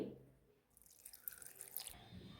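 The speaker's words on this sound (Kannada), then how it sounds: "ಸ್ವಲ್ಪ ನೀರು ಹಾಕ್ಕೊಳ್ಳಿ" A little water goes into a mixer-grinder jar holding peanut chutney ingredients. A faint, brief trickle of drips and splashes is heard, with no one talking.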